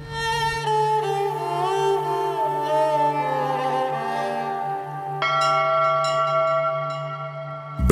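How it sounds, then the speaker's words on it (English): Bells ring with sustained, layered tones that shimmer and decay, joined by a fresh bright strike about two-thirds through, loud and resonant with no talk. "Bells rang through mystical heavens,"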